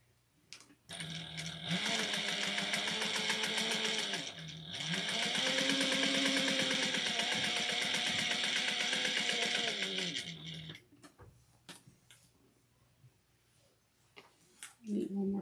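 A home sewing machine stitches a Sallie Tomato Luci pattern, running in two loud, steady bursts of fast, even needle rhythm with a brief pause between them, then stopping for a quiet stretch before it starts again.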